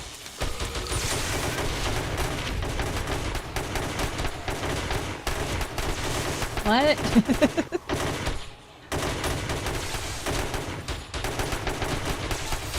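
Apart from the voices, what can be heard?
gunfire in the video game 7 Days to Die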